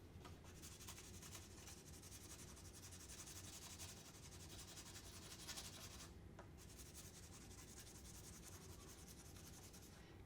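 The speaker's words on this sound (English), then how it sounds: "Do your sanding." Charcoal stick being sanded for life drawing, a soft continuous scratchy rubbing, very faint and close, with steady strokes and no talk.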